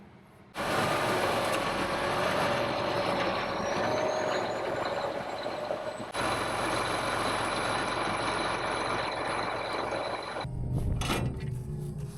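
A MacDon harvester runs with a steady loud engine drone and mechanical whine as its wheels are turned, ending in a clunk and hiss near the end.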